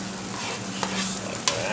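Onions frying on an oiled griddle set to 350, a continuous close sizzle with a couple of brief utensil clicks as they are stirred, no talking.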